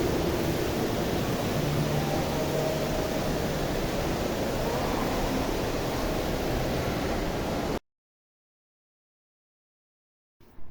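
Small water fountains splash inside a shopping mall, a dense steady rush of falling water that runs evenly for several seconds, then cuts to silence.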